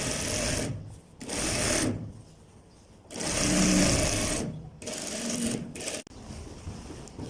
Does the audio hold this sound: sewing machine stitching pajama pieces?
yes